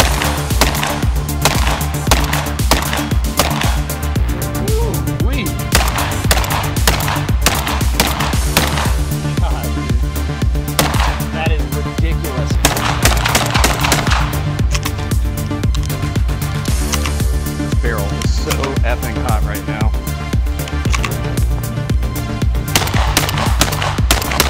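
Semiauto shotgun firing 3-inch magnum steel shot waterfowl loads, heard as a dense, steady run of loud repeated reports over about 24 seconds with no pause.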